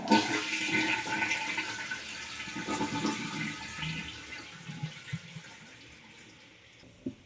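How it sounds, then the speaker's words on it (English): A toilet is flushed to drain its tank before a Toto Washlet bidet seat is fitted, with a loud rushing gush of water that slowly fades into trickling and a few gurgles, close and with no talk. "I started by turning off the water and draining the tank."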